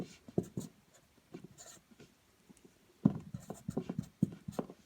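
Marker or chalk writing by hand on a classroom board while listing resistor colour-code letters, heard as short scratchy strokes in clusters, quieter early and denser near the end, with no talk over it.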